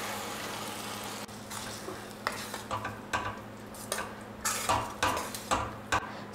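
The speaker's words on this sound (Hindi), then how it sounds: "और अब हम इसमें डाल देंगे ये पालक की प्यूरी जिसमें धनिया और हरी मिर्चें भी हैं।" Spinach puree with coriander and green chillies goes into a pan of potatoes for aloo palak gravy, met by a quiet sizzle and repeated close scraping and clinking of a spoon stirring against the pan.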